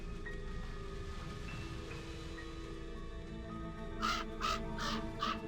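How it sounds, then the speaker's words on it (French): A crow in the game Spirit of the North 2 gives four loud caws in quick succession near the end, over a steady bed of soft rain and ambient game sound. "On va suivre le corbeau."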